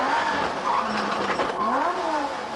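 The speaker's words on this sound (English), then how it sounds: "You can rev the motor as much as you like, Mark, but this is yours." A race car engine revs and drones at Mallory Park during a 1997 Eurocar Championship race, a loud continuous motor with pitch rising and falling, steady and fairly close.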